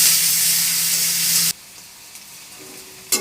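Onions and green chillies frying in a pan of hot oil, a loud, close, continuous sizzle and crackle that stops abruptly partway through, leaving near quiet with a faint clink at the end.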